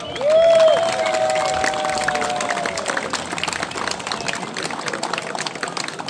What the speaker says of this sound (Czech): Poprosím, zatleskejte ještě jednou.